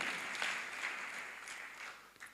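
A church congregation claps together at a sermon, a faint steady patter of many hands continuing evenly throughout, with no speech.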